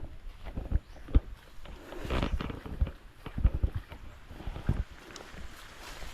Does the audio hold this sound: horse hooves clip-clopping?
yes